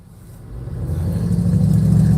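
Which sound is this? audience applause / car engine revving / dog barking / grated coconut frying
car engine revving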